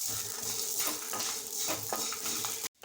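Red chillies and coconut are dry-roasted in a pan with a soft, continuous sizzle and repeated close scraping stir strokes. It ends abruptly, with no talking.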